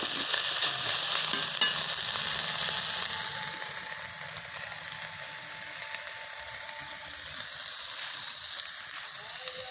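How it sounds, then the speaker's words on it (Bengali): Drumstick leaves fry with dried chillies, chopped onion, mustard oil and salt in a village kitchen, making a soft, steady sizzle with faint scraping and ticking from stirring throughout. "গুঁড়া শুকনা গোটা মরিচ ভাজা নিচ্ছ, পেঁয়াজ কুচি, সরষের তেল, লবণ এই দিয়ে ভাজি"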